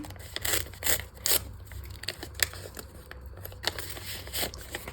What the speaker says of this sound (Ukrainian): Пакетики без перфорації, тому ось так. Відриваємо.